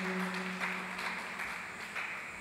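Audience at a seminarians' workshop on evangelisation claps together in a steady, even patter of many hands, moderately loud and continuous with no talk.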